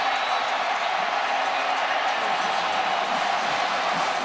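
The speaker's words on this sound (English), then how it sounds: "The Jayhawk fans with something to cheer" Football stadium crowd cheering after a Kansas touchdown against Missouri, a steady, dense roar of many distant voices filling the whole stretch without breaks.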